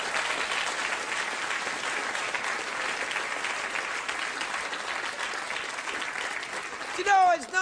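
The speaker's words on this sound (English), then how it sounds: "that round of applause definitely did say that, didn't it? It was very sarcastic" A television studio audience on a late-night talk show gives a steady, even round of applause that feels dutiful and flat, a continuous wash of clapping that holds for several seconds before a brief louder clatter at the end.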